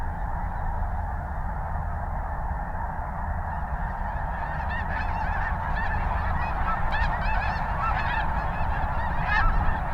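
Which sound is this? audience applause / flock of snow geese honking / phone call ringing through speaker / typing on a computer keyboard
flock of snow geese honking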